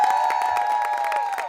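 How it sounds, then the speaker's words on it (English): A television studio audience applauds a guest, a writer, lawyer and activist, with sustained clapping and some cheering carrying steadily through the whole moment under a faint tonal layer. "Please, a round of applause for her."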